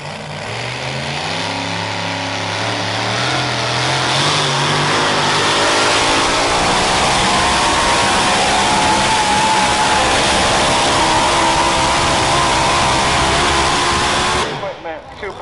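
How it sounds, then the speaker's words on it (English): A supercharged blower truck at a truck and tractor pull roars loud and close, its engine climbing in pitch as it revs hard under a crowd's din, then cutting off abruptly at the end. "The supercharged blower truck, ladies and gentlemen, called the Wild Ride."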